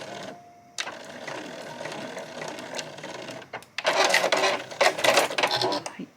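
A sewing machine stitches a frilled fabric scrunchie and backstitches at the elastic opening, with bursts of steady mechanical whirring that grow louder and denser in the second half, close to the microphone.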